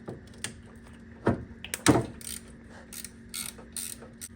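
A ratchet wrench clicks while loosening a 12 mm bolt on a Lexus LS430 engine during engine removal. Several uneven bursts of sharp, close clicking are separated by short pauses.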